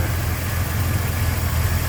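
A 1966 Chevrolet C10 engine idles smoothly and steadily, a close, even low rumble with no other sounds.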